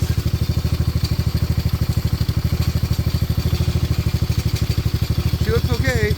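A Venom Madix 125 motorcycle engine runs steadily close by with a rapid, even, throbbing chug, and a brief squeaky rattle rises near the end.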